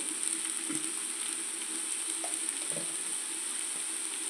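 Country-chicken eggs frying in a pan, a steady close sizzle with a few faint clicks of utensils and no voices.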